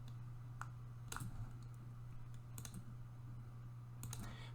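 A computer mouse clicks while a file is saved as an HTML document in OpenOffice: about four to five sharp, isolated clicks spaced over a few seconds above a constant electrical hum.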